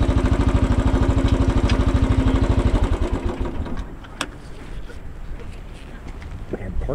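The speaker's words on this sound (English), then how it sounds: "So we'll turn the bike off." A Royal Enfield Bullet 500 motorcycle idles with a loud, steady single-cylinder thump for a few seconds, then is switched off and the engine dies away, leaving quieter outdoor ambience with light wind.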